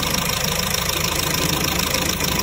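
A used car's engine idles steadily at close range, a loud, even mechanical hum with a slight knocking texture throughout, no voices.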